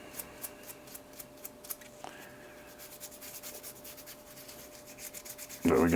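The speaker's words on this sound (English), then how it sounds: "we're going to give this guy a good scrub down, getting any carbon that we can off of it" A brush scrubs carbon off a rifle bolt from a WS MCR rifle in close, quiet rubbing strokes with small ticks. A louder, harsher burst of scrubbing comes right at the end.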